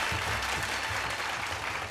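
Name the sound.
audience applause for Shreya Ghoshal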